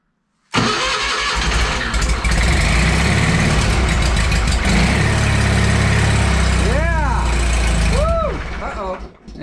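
Toro Wheel Horse 520H garden tractor engine cranks, catches and runs loud and close, then sputters and stalls near the end, with a person talking over it.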